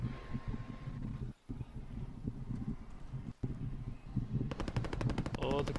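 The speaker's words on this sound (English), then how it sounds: "Where's that gunfire coming from?" Rapid automatic gunfire crackles at a distance in a battle royale shooter, a steady burst pattern over the game's ambient rumble, with a sharper, louder volley near the end.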